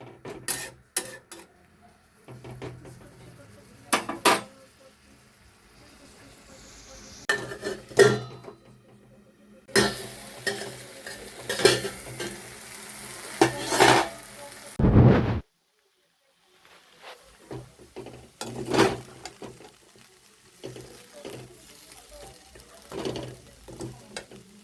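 Maggi noodles being stirred and cooked in a pan at home, with scattered scraping and clinking strokes, soft running-water or sizzle noise and a louder burst midway before a short silence, no voices.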